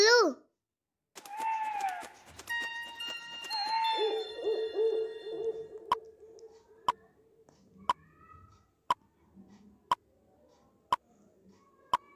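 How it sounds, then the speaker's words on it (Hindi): Owl hooting in a Hindi alphabet song for children: a descending hoot call near the start, followed by tonal melodic notes and a steady series of evenly spaced ticks. "छोटा उसे उल्लू"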